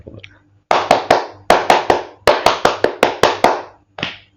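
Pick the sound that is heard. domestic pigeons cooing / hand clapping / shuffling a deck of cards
hand clapping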